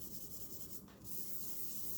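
A rag wiping sludge and water off a wet-sanded guitar finish, producing a steady soft rubbing hiss with a short break partway through.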